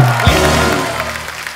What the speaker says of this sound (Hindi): जैकी और टाइगर के लिए जोरदार तालियां